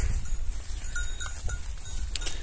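Cows in a misty barn at early-morning feeding, heard as a steady low rumble of animal movement and breathing with a few faint calls and clinks, without voices.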